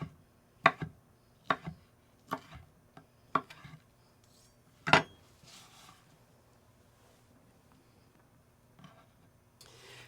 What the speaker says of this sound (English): Just dice it into nice little cubes.